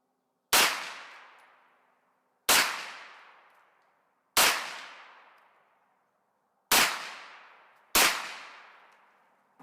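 Five loud, sharp gunshots from a Kel-Tec SUB 2000 rifle, evenly spaced about two seconds apart, each snapping close up and then ringing off in a long decaying echo before the next shot.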